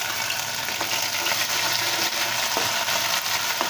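Green chillies frying with ginger garlic paste in a pan, a loud, dense, continuous sizzle and crackle with no gaps, heard up close and alone.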